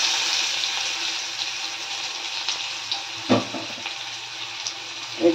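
Onions fry in a generous amount of oil for egg curry, giving a steady broadband sizzle with a few soft clatters of stirring, close and fairly quiet with no talking.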